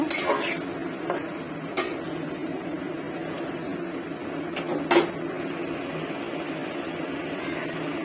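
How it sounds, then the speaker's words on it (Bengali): Fish, potato and lentils are stirred in a pan, with soft scraping and occasional sharp utensil clinks against the metal over a low steady kitchen hum. "সবগুলো ভালো করে কষিয়ে নেব।"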